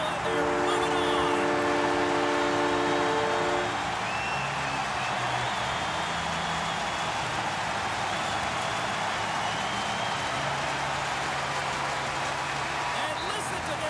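A long arena horn blares at the end of a hockey game for a few seconds, then fades into a roaring crowd while a commentator talks over it.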